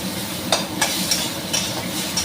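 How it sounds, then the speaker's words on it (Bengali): Tomato frying in ghee at a close, constant sizzle, with a spoon stirring and scraping in short strokes about every half second. "এবারে টমেটোটা দিয়ে দিলাম টমেটোটাকেও একটু নেড়ে নিচ্ছি"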